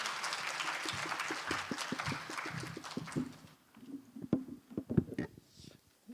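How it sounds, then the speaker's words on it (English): Audience applause fills the hall at the 2024 Asia-Pacific food regulatory heads' conference: dense, steady clapping for a few seconds that fades out, followed by a voice speaking. "I'd like to give him big applause to Director Kim Sung-kwon for his hard work."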